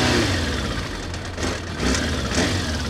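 Motorcycle engine fitted in a Piaggio tuk-tuk runs with a steady low throb and uneven idle, its pitch rising in several short revs, close and fairly loud, with no talk.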